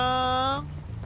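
A single short, bright meow from a cat in GTA V, cutting off after half a second, followed by quiet background.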